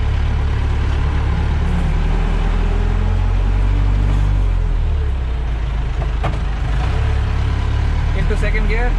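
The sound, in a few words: Mahindra Maxi Cab school van engine accelerating in first gear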